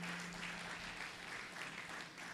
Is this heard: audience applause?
yes